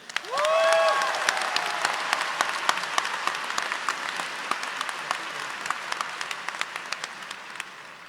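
A large crowd at the Rutgers Business School New Brunswick 2025 graduation convocation breaks into sustained applause with a brief cheer at the start, the clapping dense and steady, then slowly thinning.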